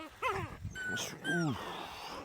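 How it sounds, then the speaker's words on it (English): Upset puppy whining and whimpering in short rising and falling cries, close and fairly loud, with a couple of yips over a quiet room. "the other puppy's pretty upset that he can't get to us"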